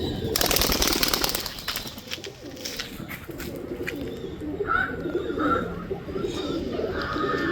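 Black-tailed highflyer pigeons coo in low, repeated throaty calls close by, while bursts of wing flapping flutter near the start, with no talking.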